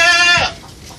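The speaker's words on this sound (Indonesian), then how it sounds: "Bapak Supriyanto juga siap mencarikan kambing-kambing yang jenis seperti ini" A goat at a livestock farm in Bantul gives a single loud, close bleat about half a second long, then quiet farm background remains.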